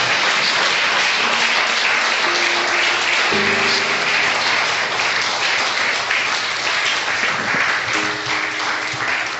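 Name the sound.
church congregation applauding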